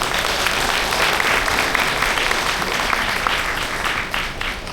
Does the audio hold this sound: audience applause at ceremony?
yes